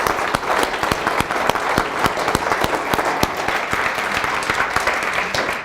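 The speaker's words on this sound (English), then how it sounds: "I would love for all of us to give you a huge round of applause" A church congregation at a Sunday service breaks into sustained applause, many hands clapping densely and loudly throughout with no speech over it.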